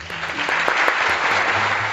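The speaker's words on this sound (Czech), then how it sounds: "Slavíme totiž naše první výročí a to si zaslouží potlesk." A crowd claps and cheers in a dense, continuous burst of applause, loud and close for a couple of seconds.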